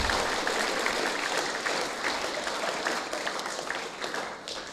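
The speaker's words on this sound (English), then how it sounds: "Can we have a round of applause for Daly and her team" A school audience at a junior prize-giving ceremony gives a steady, full round of applause, dense and even throughout, easing slightly toward the end.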